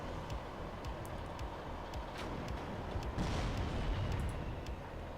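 T-55 and M48 tanks trading main gun fire in WARNO, a steady low rumble of battle broken by heavy cannon booms that swell louder near the end, with no talk.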